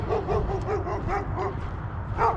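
Dog barking repeatedly in a residential neighborhood, a steady run of yips and woofs at moderate distance, loud and continuous across the clip with no talk.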